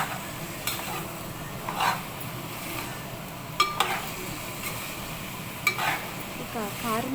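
Mutton pieces frying in a pan with ginger garlic paste as mutton curry is cooked, a steady low sizzle broken by a few sharp scraping stirs and light clinks of the spoon against the pan.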